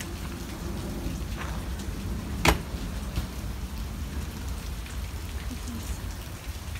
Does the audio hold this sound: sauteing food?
no